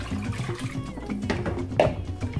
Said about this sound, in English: And add 800 millimeters of water.